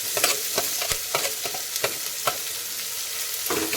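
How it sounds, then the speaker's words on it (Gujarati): Chopped onion sautéing in hot oil with garlic and green chillies for masala pulao, a steady close sizzle broken by repeated sharp scraping strokes of a spoon stirring the pan. "ડુંગળીને 2 મિનિટ સાતળી લઈશું."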